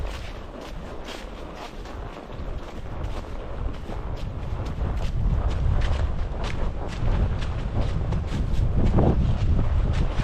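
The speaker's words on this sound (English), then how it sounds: "It's a little windy. Hopefully the mic doesn't pick up too much of the wind." Heavy wind buffeting a microphone along a ridge trail at an equestrian campground in a state park, a loud continuous rumbling roar that swells and gusts throughout with no pauses.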